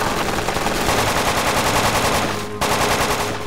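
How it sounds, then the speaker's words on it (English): Dense, loud automatic gunfire from the video game Battlefield 2 Project Reality, a continuous rapid rattle of shots that briefly cuts out near the end and then resumes. "He's shooting me through 2 trees, Marco."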